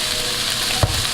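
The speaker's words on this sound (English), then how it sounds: "Let the vegetables saute a little bit" Vegetables sauté in a pan with tomato sauce for a vegan coconut curry potato dish, giving a steady, close sizzle throughout, with one soft knock near the end.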